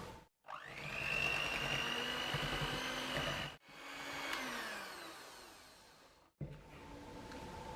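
An electric mixer beats malt powder and bicarbonate of soda into batter for Paris buns, running with a steady motor whine in long continuous stretches that are briefly switched off twice, with a shifting pitch as the load changes.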